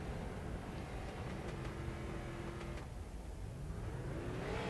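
Street stock race cars pull away from pit road at an oval short track, engines droning low and distant under a steady background rumble, with a faint rising rev near the end.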